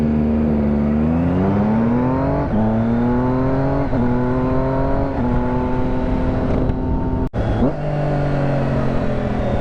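A Triumph motorcycle accelerates hard through its gears with clutchless upshifts, the loud engine note climbing in pitch, dipping briefly at each shift, then rising again, close and sustained with a sharp cut near the end.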